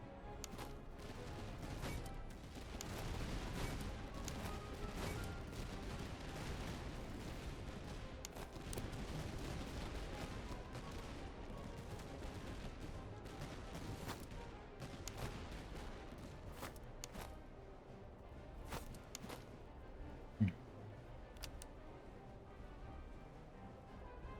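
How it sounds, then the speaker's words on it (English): Cannon and musket volleys fire in the battle game Master of Command. The shots come as dense, distant rolling crackles and booms, mostly faint, with one sharper report near the end. "Holy cannons do a lot of damage."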